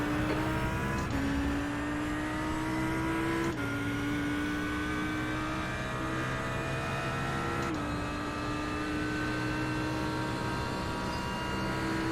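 A GT3 race car at Monza in a racing game drones with a loud, steady engine note, the pitch dropping at each gear change, with another car's engine blending in as it closes.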